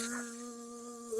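A voice imitates a bee's buzz, giving a steady, tonal drone that holds evenly for just over a second with no talking, in a children's book reading.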